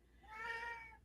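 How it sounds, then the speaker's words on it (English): A single house cat meows once, a drawn-out, tonal cry rising and fading over about a second, fairly quiet and heard alone without speech. "sorry about my cat, won't stop."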